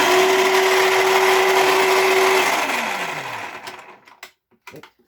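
An electric grinder blitzes whole spices into a powder mixture for air-fried chicken, a loud steady whirring motor that winds down and stops, followed by a few light clicks and knocks.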